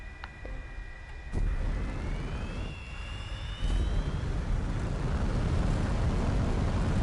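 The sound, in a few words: jet aircraft engine in the video game War Thunder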